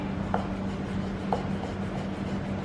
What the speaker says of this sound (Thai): แล้วเราก็มาซอยผิว ให้เป็นเส้นเล็ก